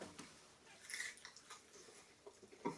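Faint, close crunching as crisp edible insects are chewed, a few soft crackly bites scattered over a quiet background.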